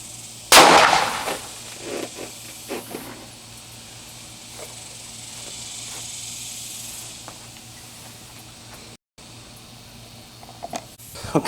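A single loud pistol shot from a Kahr PM9 firing an Extreme Shock 9mm Air Freedom round at a full soda can seven yards away, one sharp crack followed by a long hissing decay and quiet outdoor ambience.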